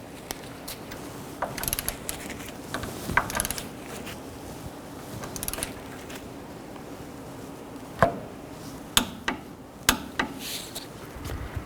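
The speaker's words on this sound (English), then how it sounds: "we can tighten this nut down and torque this to 48 foot-pounds" A ratchet tightens the castle nut on the tie rod of a 1999-2007 Chevy Silverado 2500 in short bursts of quick clicks, separated by sharper metallic taps and knocks, fairly quiet and close, with no talking.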